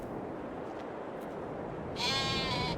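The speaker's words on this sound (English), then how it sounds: "There they are. Sheep. We have sheep." Sheep bleating in the farming video game Farming Simulator 22: a single clear bleat rises out of a steady ambient background near the end, moderately loud.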